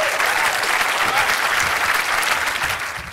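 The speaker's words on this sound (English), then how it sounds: "Give them a hand." Sustained applause from a workshop audience in a large sound stage, dense clapping throughout at an acting workshop, fading slightly at the end.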